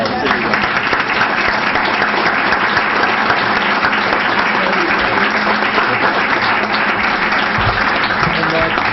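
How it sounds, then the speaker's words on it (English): A village board meeting audience applauds children, the steady clapping loud and dense throughout. "So I want to applaud all my kids at once"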